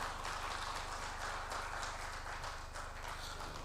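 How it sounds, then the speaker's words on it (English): Audience applauding panelists at a digital infrastructure conference, a steady patter of many hands clapping in a hall, moderately distant and sustained throughout. "Round of applause."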